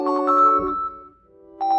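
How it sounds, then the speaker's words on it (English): A phone alert ringtone plays, short bright melodic tones in a quick bouncing pattern that pause briefly and then start again, loud and clean with no talking over it. "So now we have our ringtone set that we want to use for alerts."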